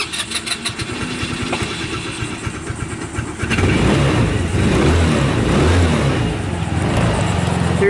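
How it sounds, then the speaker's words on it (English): A Scoot Coupe scooter with a four-stroke engine is cranked with a rapid ticking starter, then catches and fires up into a loud, steady buzzing idle that carries on to the end, close by. "we're going to go ahead and start it so you can hear it start"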